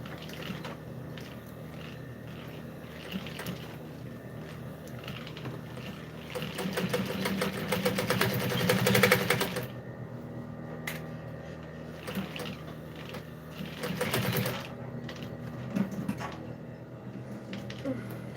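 A sewing machine stitches a structured handbag lining in bursts of rapid mechanical whirring, loudest midway and again near the end, with quieter handling sounds between runs.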